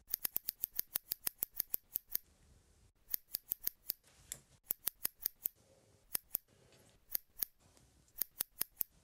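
Scissors make rapid, crisp snips through mark-stitch thread in jacket fabric, in quick bursts of about a dozen cuts with short pauses between, close and clear in a quiet room.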